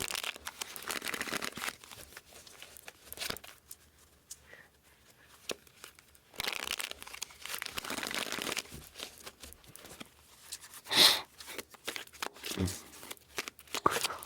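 Close-up papery riffling and rustling as tarot cards are shuffled in irregular bursts, with pauses of near silence between them.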